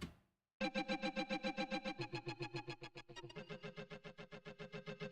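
Heavy distortion from an effects rack in a sound design session, a buzzing, harmonically dense tone pulsing in quick even repeats after a brief fading lead-in, with a short drop and pitch shift partway through.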